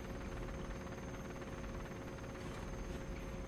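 Steady, faint whirring rotor drone of a helicopter in the video game Operation Flashpoint: Dragon Rising, continuous and unbroken with no voices.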